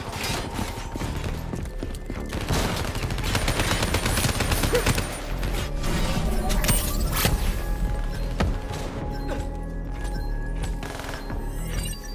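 Sustained automatic gunfire and explosions in a snowy frozen-forest battle in Call of Duty Black Ops III, dense and continuous, with rapid shots layered over booms.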